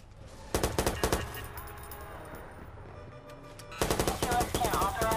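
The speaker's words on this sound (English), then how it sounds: "He's shooting." Gunfire in a video game comes in two loud bursts of rapid, automatic-sounding shots, one near the start and another near the end, with a quieter stretch of ambient noise between them.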